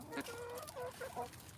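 Hens eating grape residue cluck softly in a quick run of short, low calls, faint and close, with no other sounds over them.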